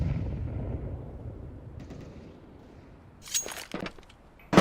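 A rumbling grenade blast in Counter-Strike fades into near quiet, followed by a few sharp, close gunshots near the end.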